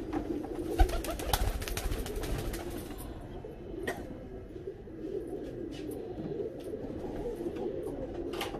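Female Teddy pigeon cooing softly among other birds, low repeated coos under scattered clicks and chirps, fairly faint and near.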